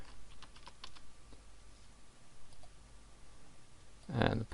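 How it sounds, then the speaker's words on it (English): Light keystrokes on a computer keyboard while entering a username, a quick scattered run of clicks early on, then a louder burst of voice-like sound near the end. "type in my username"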